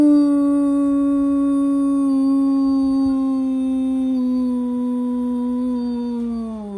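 A single voice sustains a long, resonant "ooh" vocal tone in a toning practice, loud and close, holding a steady pitch for nearly seven seconds with only slight drift and a gentle fade at the end.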